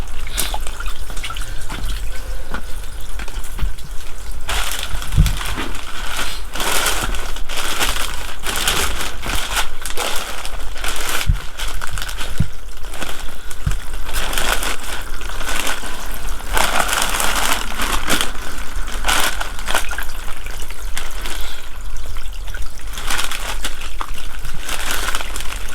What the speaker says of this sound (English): Now we're just going to put some water in this.